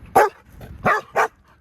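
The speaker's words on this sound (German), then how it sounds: "Mit den Hunden am Spielen." Several dogs bark in sharp, loud bursts while playing outdoors, three distinct barks close together with a softer yip between, no voices.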